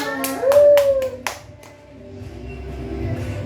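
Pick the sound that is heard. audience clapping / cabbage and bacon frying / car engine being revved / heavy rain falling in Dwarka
audience clapping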